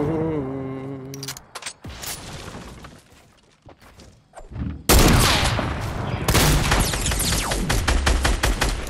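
Fortnite shotgun blasts and a rapid burst of gunfire crack loudly in a chaotic firefight, sharp repeated reports crowding together after a quieter stretch of scattered hits.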